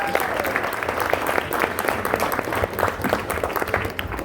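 An audience at a songwriters' round applauds a performer with a dense, continuous burst of clapping and faint voices beneath it.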